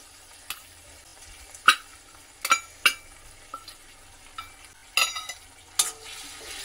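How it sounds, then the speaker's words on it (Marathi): A spoon stirs a sweet grated cucumber and jaggery batter in a pot, heard as a series of separate scraping knocks at an uneven pace, close and fairly clear against a quiet background with no talk. "हे छान असं सगळं ढवळून घ्यायचं आहे"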